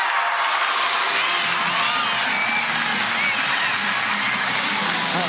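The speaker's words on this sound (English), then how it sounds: "Little roar of the crowd for that defensive web" A crowd at a professional softball game cheers and applauds after a defensive play, a steady, broad roar of many voices and clapping at moderate distance throughout.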